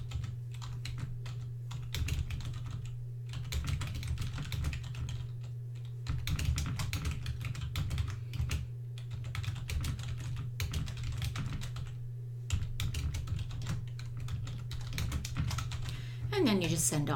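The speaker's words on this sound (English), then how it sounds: "So you just type a date." Steady keyboard typing on a computer, clusters of quick key clicks with brief pauses, heard faintly beneath a continuous low hum while someone talks throughout.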